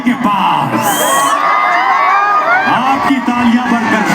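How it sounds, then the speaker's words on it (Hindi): A crowd at a matki pot-breaking celebration cheers loudly, with whoops, yells and children's shouts rising as a young boy reaches the hanging pot, and a constant roar of voices throughout. "आपकी तालियां बरकरार रखनी चाहिए।"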